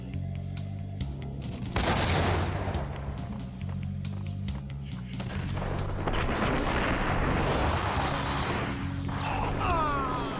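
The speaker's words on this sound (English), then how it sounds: "What did he shoot at me? A rocket launcher?" A rocket launcher shot and its explosion in the game Max Payne, a heavy launch whoosh followed by a booming blast and rumbling debris, loud and close amid background noise.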